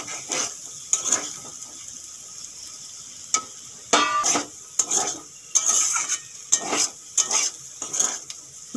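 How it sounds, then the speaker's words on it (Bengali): Custard apple slices frying in a pan are stirred, with repeated scraping and clinking strokes of a utensil against the metal over a soft sizzle, close and irregular. "এখন আবার নেড়ে দিচ্ছি"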